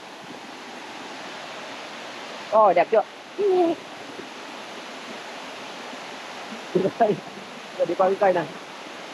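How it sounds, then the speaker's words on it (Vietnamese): Liêng Ài waterfall in Bảo Lộc sends out a constant, even roar that fills the background while people talk briefly over it. "Mà cái thác khá là nổi tiếng nha."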